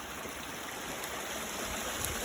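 Snowmelt water from a forest stream on the slope of Cerro Manquehue, Chile, rushes steadily into a drainage structure, a continuous broadband hiss and gurgle at moderate distance with no voices.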